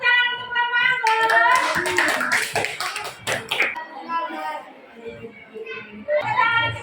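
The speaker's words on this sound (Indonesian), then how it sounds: "Tepuk tangan untuk kelompok Anggur." Children in a classroom clapping for a discussion group, a rhythmic patter of small hands mixed with high young voices chattering and calling out, loud at first then thinning before another round.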